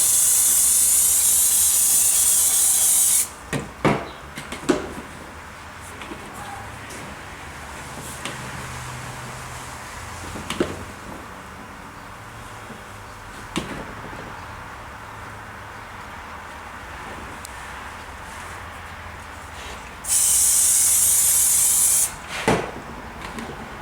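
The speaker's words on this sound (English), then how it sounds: "Spray some more on." Spray bursts on a model train layout: two long, loud continuous hissing blasts at the start and near the end, with brief puffs and faint handling knocks in between.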